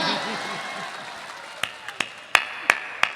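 A few scattered handclaps from the audience at a Hindi comedy show, five sharp separate claps coming in the second half after a stretch of talk.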